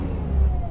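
A skid steer engine idling steadily up close in the cab, a deep continuous low rumble with no talk, ahead of a brush-hogging job.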